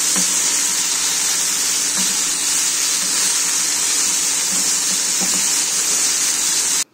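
Okra frying in a little oil gives a steady, close sizzle and hiss that runs unbroken for about seven seconds, with faint soft pops underneath, then cuts off abruptly at the end.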